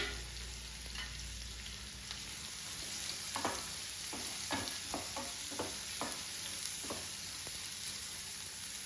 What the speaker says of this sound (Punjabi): ਪਿਆਜ਼ ਨੂੰ ਆਪਾਂ ਲਾਈਟ ਬ੍ਰਾਊਨ ਹੋਣ ਤੱਕ ਭੁੰਨ ਲੈਣਾ ਹੈ